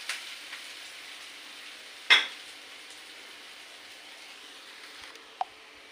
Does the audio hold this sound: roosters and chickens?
no